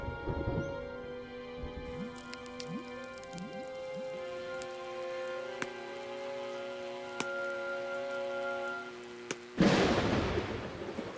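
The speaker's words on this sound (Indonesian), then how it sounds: "Badai akan datang." A storm brews in an animated outdoor scene, with a soft, steady wash of rain and faint distant rumbles, then a loud burst of heavy rainfall near the end.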